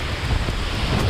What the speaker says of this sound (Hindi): ये बहुत तेज हवा है।